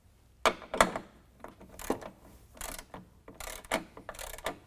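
Ratchet tightening nerf bar bracket bolts to a truck body, sharp bursts of rapid clicking repeated in short strokes with pauses between, close up and fairly loud.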